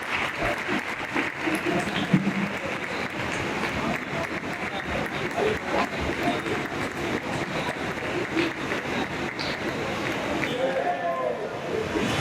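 An audience applauds steadily at an award ceremony honouring spiritual leaders, a continuous, moderately loud wash of clapping lasting several seconds with a faint voice now and then.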